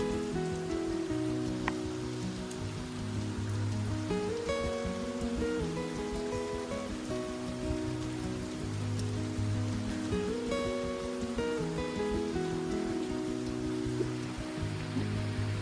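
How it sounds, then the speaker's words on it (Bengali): Steady rain falls outdoors in a constant dense patter that stays even throughout, mixed with music playing in the background. "তবে এই বৃষ্টিটা অনেকই জরুরি ছিল গো"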